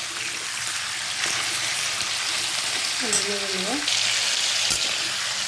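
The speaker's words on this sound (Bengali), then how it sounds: "লাল লাল করে ভেজে নেব।" Spices sizzle in hot oil with salt and turmeric powder, a steady loud frying hiss throughout, with a brief voice and some faint stirring clatter over it.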